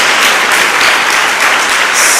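A church congregation breaks into loud, close applause for Jesus during a service, sustained clapping that stays strong from start to finish.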